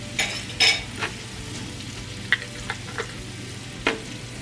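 Minced garlic and onions sizzle in butter in a cast iron skillet, a steady frying hiss broken by several sharp scrapes and clacks as a utensil stirs them around.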